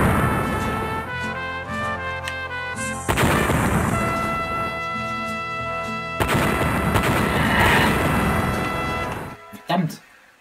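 A thrown object exploding in the game Schiaffi & Fagioli, loud booming crashes with gunfire-like bursts over game music, hitting hard at about three and six seconds, then a short sharp blast near the end.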